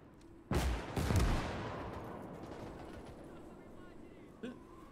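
Mortar fire in Gates of Hell: Ostfront: two loud, close blasts in quick succession, each trailing off into a long rumbling decay, followed a few seconds later by a fainter single thump.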